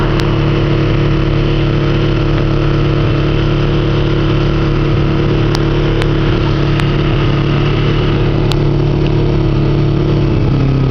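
A Kawasaki Ninja 250 motorcycle engine runs at a steady, loud idle hum with constant low rumble throughout, a few sharp ticks cutting in near the end.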